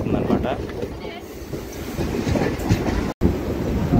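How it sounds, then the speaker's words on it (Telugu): A passenger train pulls out of Mangalagiri station on the Vijayawada to Guntur line, a loud, close rumble with rattling carriage noise and wind buffeting the microphone, broken by a momentary dropout. "1 మినిట్ స్టాప్ తర్వాత మంగళగిరి నుంచి మన ట్రైన్ అయితే మూవ్ అయిపోతుంది అనమాట"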